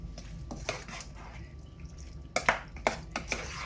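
Air-fried vegetables are stirred in a dish, with a few light scrapes and sharp clinks of utensil on the dish, close and quiet, separated by brief pauses.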